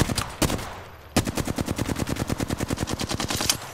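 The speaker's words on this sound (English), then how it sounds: "I'm just shooting to get him off of us." Automatic weapon fire in Apex Legends: a couple of separate shots, a short pause, then a long, steady rapid burst of evenly spaced rounds, loud and close with no talking.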